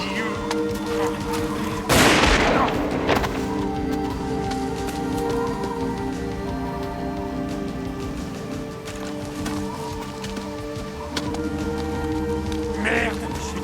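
Film gunfire, with one loud sharp shot near the start and a lighter crack soon after, over a rumbling, rain-like background.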